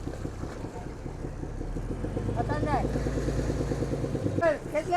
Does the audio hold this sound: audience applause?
no